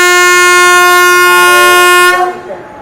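A long, loud train horn blast at a Madhya Pradesh station as a departing train pulls out, holding steady for about two seconds before fading into the low rumble of the rail cars.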